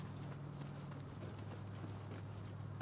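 A horse's hooves clop steadily in Nioh 2, a continuous rhythmic patter over a low humming game background.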